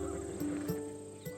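Neigh from a Macedonian warhorse bred for battle in the video game Assassin's Creed Odyssey, a fairly faint whinny in a short burst among soft background game sounds.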